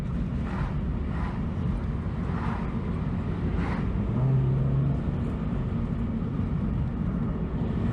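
A 2023 Subaru BRZ with stiff suspension driving over a rough city road, heard as a steady, close interior roar of road and engine noise with faint bumps.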